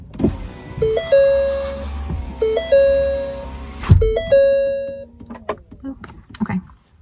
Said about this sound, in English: I'm gonna roll a window up.